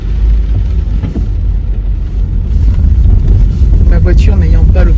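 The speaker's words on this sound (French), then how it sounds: "Je passe dans des flaques d'eau qui sont" A car drives along a flooded road, its low rumble and wind buffeting mixed with watery splashing from puddles, fairly loud and continuous, with a person speaking over it.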